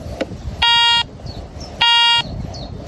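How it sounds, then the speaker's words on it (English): Two loud electronic beeps from a Garrett ACE 400i metal detector, each a steady tone lasting under half a second, separated by a pause, over a low background rumble. "we're going to get a sort of one-way beep now, getting out of its range there"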